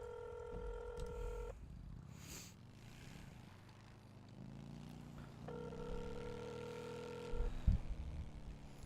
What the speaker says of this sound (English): I'm gonna try to make my phone call again